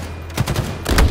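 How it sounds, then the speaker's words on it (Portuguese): A short burst of gunfire in Halo Infinite multiplayer, two or three loud reports in quick succession with a low booming tail, close and sharp. "Aquele tiro matou muitos dos nossos."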